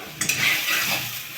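Vegetables frying in a pan with chilli and garlic, a soft steady sizzle with a couple of quick metallic clinks near the start as the pan is stirred, close and moderate in level with no talk.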